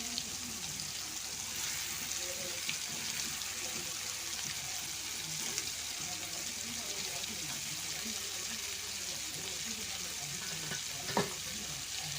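Steady hiss of dried fish frying in hot oil, continuous and close, with faint stirring clatter and a brief sharp knock near the end.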